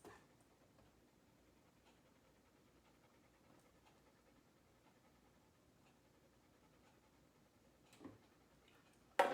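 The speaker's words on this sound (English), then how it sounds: "I got a very energetic dog." An energetic dog pants quietly and rhythmically at close range over a faint background, with a couple of brief louder knocks near the end.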